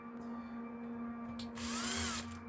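A power drill with a long, bendy drill bit bores into material at close range. The motor whines steadily and then surges into a harsher, louder grinding burst for under a second before easing off.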